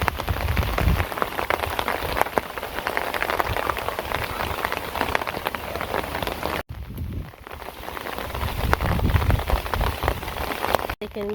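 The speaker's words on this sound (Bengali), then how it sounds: "দেখেন বৃষ্টি নামছে, তো বৃষ্টির মধ্যে কাজ করতেছি" Steady rain pours down outdoors on farm fields, a dense continuous patter of drops on surfaces that holds loud throughout, dipping briefly once before resuming.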